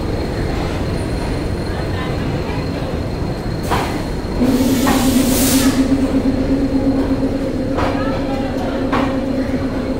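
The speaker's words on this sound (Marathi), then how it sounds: "सो मित्रांनो फायनल आमची ट्रेन सुटलेली आहे" The Swaraj Express train pulls out of the station, a steady low rumble rising partway through with a sustained tonal hum and wheel squeal, sharp clanks at intervals, and people talking nearby.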